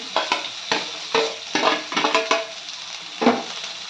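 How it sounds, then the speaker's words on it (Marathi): Onion sizzles with garlic in a pan, a close frying hiss broken by repeated scraping stirs and light utensil clinks against the pan, with no voices. "लसूण छान लाल झाला की यामध्ये कांदा घालायचा आहे"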